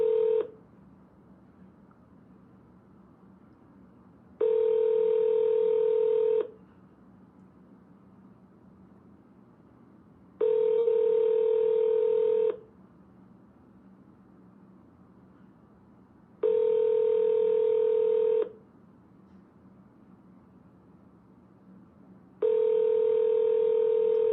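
Repeated DTMF phone dialing tones during a real estate cold call, five evenly spaced steady beeps each lasting about two seconds, clear and loud over a quiet hiss.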